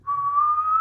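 A person gives a single steady, high whistle close up, imitating a voice, held for under a second with no talk.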